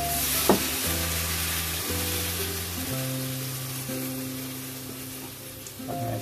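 Tamarind water being poured into a sizzling brinjal and tomato curry, a steady close frying hiss with a few sharp stirring clinks, no voices.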